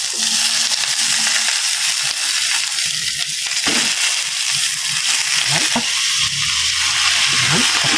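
Tilapia sizzles loudly in a hot pan for ginataang tilapia, a dense continuous hiss and crackle up close, with a few faint clatters of a utensil beneath it and no talking.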